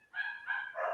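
Neighbours' dogs bark in a quick run of three loud, close yaps within a second, with no talk over them.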